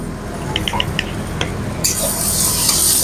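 Spices and chopped tomatoes sizzle steadily in a pan, with a few light clicks and stirs early on, then the frying hiss swells louder and brighter partway through.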